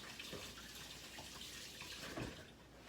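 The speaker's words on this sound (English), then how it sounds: "I'm gonna wash my hands quick" Faint running water from a kitchen tap as hands are washed, a soft steady hiss with a few light splashes, distant and low in level.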